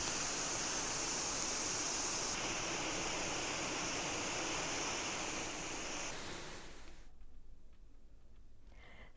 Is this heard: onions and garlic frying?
no